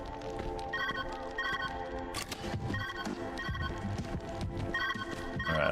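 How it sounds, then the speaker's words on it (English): A phone rings repeatedly in a video game, a steady electronic ring pattern repeating in even bursts over busy background game sounds and music. "I better answer this phone"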